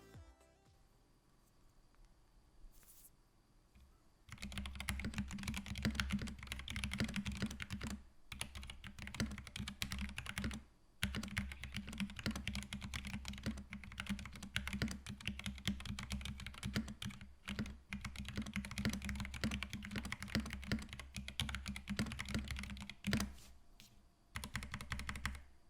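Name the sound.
typing on Epomaker GK96S keyboard, sound test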